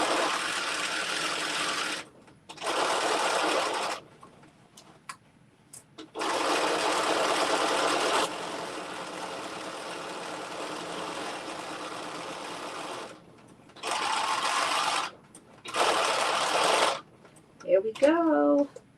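A home sewing machine runs an edge stitch on a McCall's 7892 garment in several bursts of fast whirring stitching separated by pauses, close and fairly loud, with a voice speaking briefly near the end.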